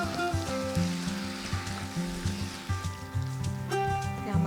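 Green peas sautéing in a pan with salt, giving a steady, moderate sizzle with faint stirring scrapes and background music throughout.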